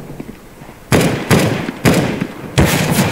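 Four loud, sharp gunshots ring out in the video game CS:GO, spaced roughly half a second to a second apart, each with a short echoing tail.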